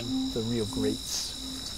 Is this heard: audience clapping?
no